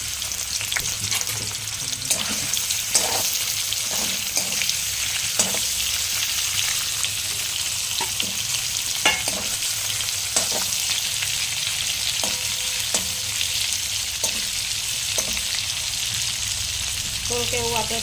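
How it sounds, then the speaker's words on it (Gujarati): Paneer fries and sizzles in a pan under a steady hiss, with periodic scraping clicks of stirring; the sound is close, and any talk is barely present. "આપણે હવે પનીરને થોડુંક શેક કરી લેવાનું છે"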